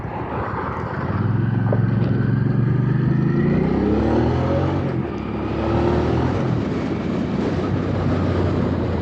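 A Hyosung GV650 Aquila motorcycle engine revs up close by, its pitch climbing steadily and then holding at a loud, throaty drone.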